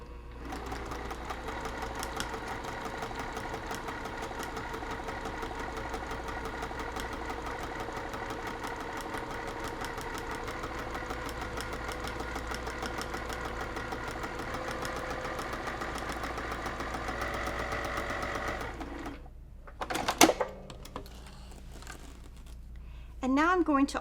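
A sewing machine runs a long, steady stitching pass along the seam of a zipper bag, a close continuous whir that stops near the end, followed by some handling noises.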